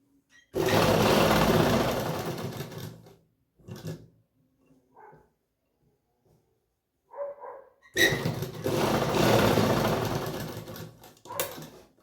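Sewing machine running a straight stitch on heavy Patiala salwar fabric, two long steady whirring bursts separated by a pause with a few soft handling knocks in between.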